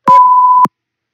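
A single loud, steady electronic beep tone, a custom sound effect for a Panzoid intro, holds for about half a second and then stops into silence.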